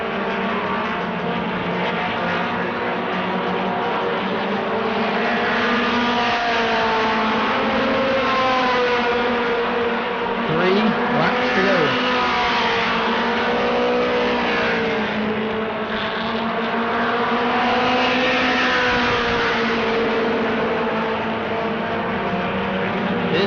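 Mod Mini race cars roar through the corners at New Smyrna, several engines layered at high revs with rising and falling pitch as they pass. The sound is loud, continuous and close, with no talking.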